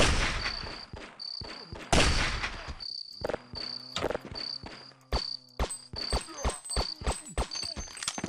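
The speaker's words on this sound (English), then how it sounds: "I'm gonna shoot the one that's not moving." Gunfire in the video game They Hunger: sharp, loud shots at an irregular rhythm, several in quick succession, over a steady high-pitched whine and low game hum.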